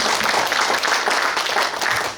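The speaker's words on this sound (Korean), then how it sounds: "뜨거운 박수 한번 쳐주십시오." A brief burst of applause from a forum audience for a speaker at a discussion on a new teacher-training middle school at Suncheon National University, dense clapping at moderate volume, alone.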